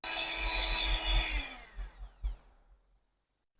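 An electric mixer blends a strawberry ice cream mixture with a loud whirring motor that winds down and coasts to a stop, then falls silent.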